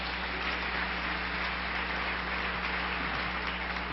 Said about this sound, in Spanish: Un aplauso para mis hermanos.